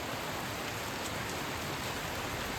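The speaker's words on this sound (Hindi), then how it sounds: "अभी भी बाहर बारिश हो रही है" Steady rain falls outside a window in Muzaffarabad, above a river and the city below, a dense continuous hiss with no voices.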